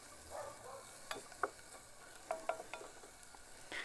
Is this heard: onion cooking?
yes